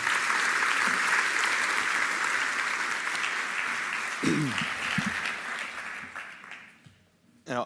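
Loud, sustained applause from a business conference audience fills most of the clip, then fades out as a speaker begins to talk in French.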